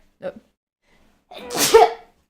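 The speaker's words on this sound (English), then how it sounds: "sorry, I'm gonna sneeze" A single loud sneeze with a quick sharp intake of breath before it, close up, after a brief short vocal sound and a pause of silence.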